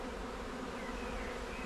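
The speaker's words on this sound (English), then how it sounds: "get our returning bees that are kind of all over there" Honeybees returning to a hive during the merging of colonies fill the air with a dense, steady buzz, close and continuous without a break.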